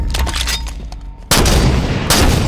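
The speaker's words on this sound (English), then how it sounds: "I'm gonna shoot it with a sniper." Loud gunfire booms out in Halo 5, one big shot at about the midpoint and another heavy blast near the end, over dense game noise.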